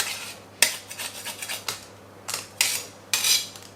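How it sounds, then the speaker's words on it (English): A knife or spoon scrapes garlic out of a metal garlic press in a home kitchen, making several sharp, close metallic scrapes and clinks separated by brief pauses. "Simply use a knife or spoon and scrape it out."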